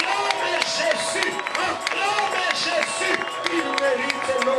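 Church congregation acclaiming Jesus at a Sunday service, a dense crowd roar of cheering, clapping and excited voices that holds steady and close throughout.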